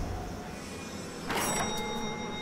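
A mechanical door in the BioShock video game slides open with a short, bright whoosh partway through, over a steady hum and faint sustained tones.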